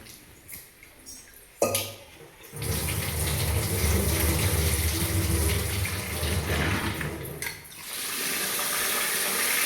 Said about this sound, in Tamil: அரிசி கழுவி முடிச்சாச்சு